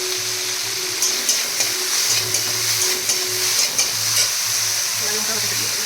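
A vegetable curry sizzles in a pan as chili paste is added and stirred in, with steady frying hiss and repeated scraping strokes of the spoon close up, no talking.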